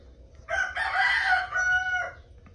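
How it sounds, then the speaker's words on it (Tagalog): A single loud rooster crow, close by, rising and holding for about a second and a half before trailing off, over quiet background. "Napakaingay na manok,"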